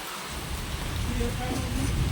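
Heavy rain that is getting heavier, heard from the road as a dense, steady hiss and patter that swells slightly, with voices faintly underneath.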